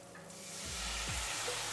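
Browned onions sizzle and hiss in a hot frying pan as they are stirred, and the steady close frying noise swells louder partway through.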